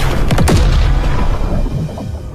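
One loud boom from an explosion in an animated fantasy story hits early, with sharp blasts that trail off into a fading rumble.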